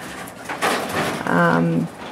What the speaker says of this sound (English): in here we have an assortment of different types of birds that are recovering